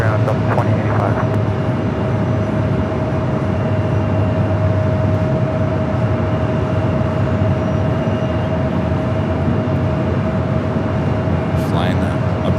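A JSX ATR turboprop climbs out over LAX after departing Santa Monica, its steady engine drone holding loud and continuous throughout, with a constant tonal hum and broadband rumble and no pause.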